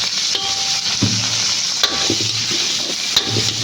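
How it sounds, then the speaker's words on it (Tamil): Steady sizzling and frying of chicken with onions in a pan, with occasional stirring scrapes and clinks over the continuous hiss. "ஸோ இந்த டைமில் வெட்டி வச்சுருக்க சிக்கன் இது கூட ஆட் பண்ணிப்போம்"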